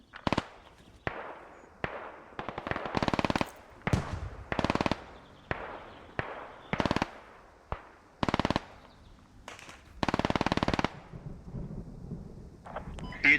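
An MG3 machine gun firing in the military shooter Squad, loud long bursts repeated with short pauses, a rhythmic stream of shots close by and echoing over open ground.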